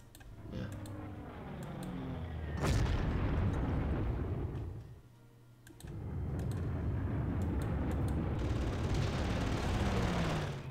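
Bombardment explosions in the Panzer Corps wargame: a sharp blast followed by a long heavy rumble, a brief lull, then another sustained roaring barrage, with faint clicks scattered throughout.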